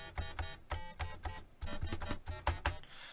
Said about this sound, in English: This mini 8-bit plugin, the one that sounds like this